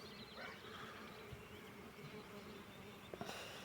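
Bees buzz softly and continuously at close range around poppy flowers, a faint steady drone with a couple of brief louder bumps near the end.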